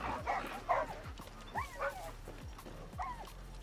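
Dog in the video game Far Cry New Dawn barking and yipping in a series of short, fairly quiet woofs with whimpery tones, several spaced calls over a low game background.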